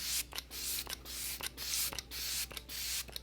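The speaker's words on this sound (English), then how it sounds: "I'm going to go in with my Morphe Luminous Setting Spray." Short pumped bursts of Morphe Luminous Setting Spray misting from a pump bottle, several quick hissing puffs in an uneven rhythm, close to the listener with no talking.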